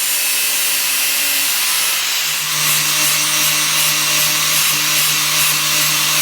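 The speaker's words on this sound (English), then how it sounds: "That's why I'm grinding as much of it off as I can before I weld it." An angle grinder grinds galvanized coating off a steel pipe, a loud high whine with harsh abrasive hiss held steady and close throughout, pitch dipping slightly as the disc bites, with no talking.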